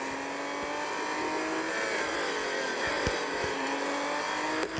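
Classic Porsche race cars in a Le Mans racing video game roar past, their engines loud and close and holding steady, high revving.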